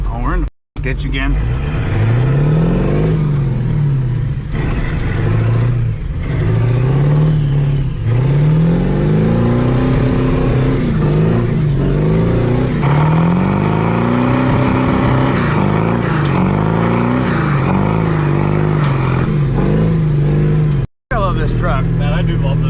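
A truck engine revs repeatedly while driving, its pitch climbing and falling in a run of loud, close surges, with one brief cut to silence.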